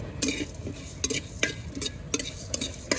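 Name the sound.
spices frying in mustard oil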